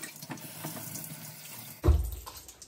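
A dirty, limescale-clogged shower head runs water in a steady hiss that swells into a louder, fuller gush near the end, close by.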